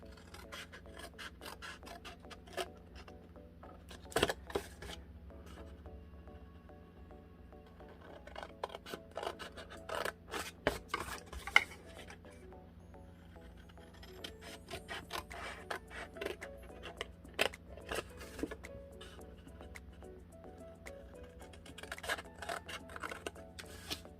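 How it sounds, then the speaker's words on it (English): Scissors snip out paper pieces for a Christmas paper clutch, giving close, quiet, irregular crisp cuts and rustling that keep going for about twenty seconds with no talking. "Now we're just going to cut these 6 out and these 6 out."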